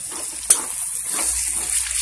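Tomatoes go into hot oil with onion and garlic that are already cooked, giving a soft, steady sizzle with a light tap of a utensil at the start; the frying stays quiet and constant.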